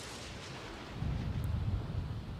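Low rolling thunder from a lightning storm in The Sims 4 Seasons, a deep rumble swelling midway and holding steady, fairly loud with no talk over it.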